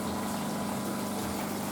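A water pump in an off-grid aquaponics fish tank holding silver perch and goldfish hums steadily beside continuously splashing, flowing water, close and unbroken with no voices.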